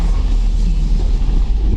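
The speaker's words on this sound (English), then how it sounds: "And traffic. Lots of traffic today." Road traffic rumbles past a new Jeep Trailhawk 4xe on a mountain road near Ouray, a steady loud low drone of engines and tyres that fills the whole stretch.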